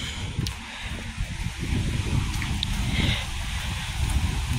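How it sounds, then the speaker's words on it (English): Wind roars and buffets the microphone in strong, rumbling gusts, a continuous blustery low roar that swells and eases. "That gust was a wild one."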